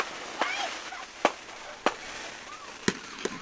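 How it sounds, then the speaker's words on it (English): Fireworks going off at a nighttime men's jump championship final, with five sharp bangs spaced irregularly over a low crowd murmur, some followed by faint whistling crackle. "Yes, we've got fireworks."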